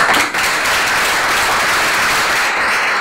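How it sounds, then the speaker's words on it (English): A workshop audience gathered in a church applauds steadily for about three seconds, a dense and fairly loud wash of clapping with no one speaking over it. "give him another round of applause"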